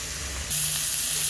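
Paneer seasoned with chilli powder and salt frying in a pan: a soft background hiss swells suddenly into a loud, bright, steady sizzle heard close up.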